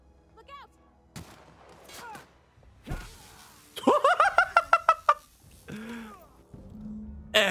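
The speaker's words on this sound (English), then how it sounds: "Oh, they're already shooting at us." Enemy gunfire in The Outer Worlds, a quick run of sharp rhythmic shots in the middle of the passage amid other game effects and a voice, close and punchy.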